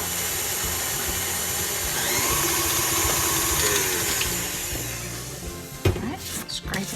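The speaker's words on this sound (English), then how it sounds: "now I'm going to add my egg and mix it into the creamed mixture" Electric mixer beating an egg into creamed cookie dough for chocolate chip cookies, a steady loud whirring motor drone running continuously before stopping near the end with a few clatters.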